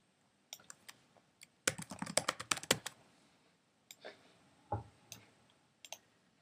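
Password being typed on a computer keyboard during a Mac software install, with a burst of rapid key clicks in the middle and scattered single taps before and after, close and clear with no talking.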